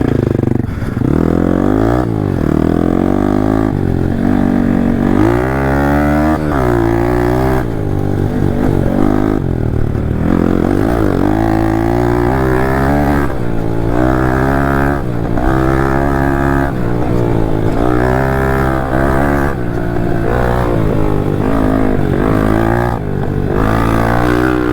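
A motorcycle engine pulls hard and loud throughout, revving up through repeated rising surges as gears change, close and continuous with no pauses.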